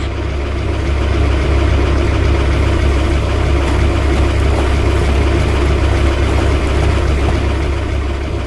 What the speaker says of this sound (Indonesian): Traktor hijau berjalan dengan kecepatan yang santai